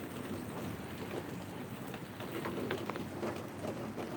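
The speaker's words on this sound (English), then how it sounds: "Still raining." Rain falls in a steady, soft wash during a storm, a faint constant patter with no one speaking.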